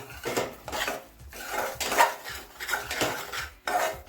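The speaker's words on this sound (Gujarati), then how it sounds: "ગોળને આ રીતે ભાંગી નાખવાનો છે સરસ કટકાનો રહી જાય એ રીતે સરસ મિક્સ કરી દેવાનો છે" A spoon stirs and breaks up jaggery for sukhdi in a pan, giving repeated scraping, clinking strokes of metal on metal in an irregular rhythm, close and clear with no voices.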